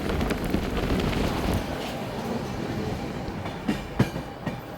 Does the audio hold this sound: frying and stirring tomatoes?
no